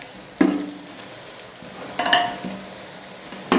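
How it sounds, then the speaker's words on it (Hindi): Crushed coriander and garam masala fry in a pot as a spoon stirs them, with a few distinct scraping bursts over a soft sizzle, close and alone. "और मैं अभी इसे थोड़ा सा मिक्स करती हूँ इस मसाले को"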